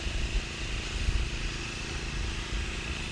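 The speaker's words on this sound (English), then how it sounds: "Comes next door in his tractor." A steady, low engine rumble from a tractor nearby, droning continuously without pause and with no voices present.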